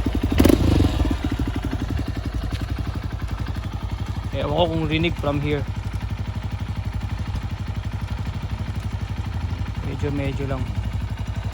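A Honda CRF150L trail bike with its silencer removed idles loudly in a steady, throaty mechanical drone, with a brief louder burst at the start while someone speaks briefly over it.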